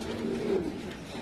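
Soft, rolling coos from pouter pigeons kept at a Casablanca bird market, one short warbling call rising and falling nearby over quiet ambient noise.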